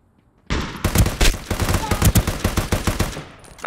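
Rapid bursts of gunfire from a video game called ROE, loud and close, a dense run of sharp cracks lasting several seconds after a quiet start, with no talk over it.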